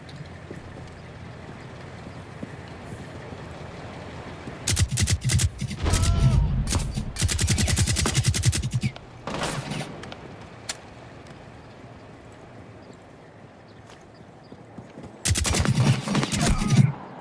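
Gunfire in Rainbow Six Siege: a few bursts of rapid shots crack out, several separated by quiet stretches, with players talking faintly beneath.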